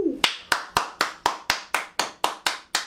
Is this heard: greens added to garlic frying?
no